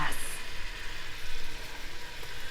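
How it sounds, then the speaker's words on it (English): Onions and garlic fry in a pan, giving a gentle, steady sizzle that continues under light kitchen background noise. "as soon as anyone starts frying onions and garlic"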